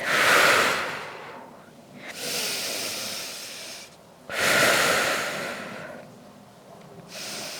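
Slow, deep breathing during a yoga stretch for flexibility: long airy inhales and exhales alternating in a steady rhythm, close and fairly loud, with no voice over it.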